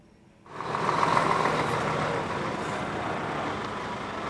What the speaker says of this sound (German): werden die Wagen nun abgeholt und mit einem LKW zum Schrottplatz gebracht